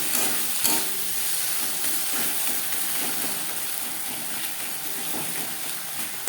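Onion, tomato, ginger paste and green chili paste are stirred together in a hot pan, giving a continuous bright sizzle with soft scraping, steady and close, with no voices.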